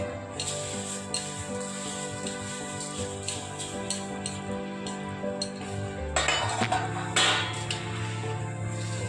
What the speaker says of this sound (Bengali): এবার আমি মুড়িটা দিয়ে দেবো এর মধ্যে।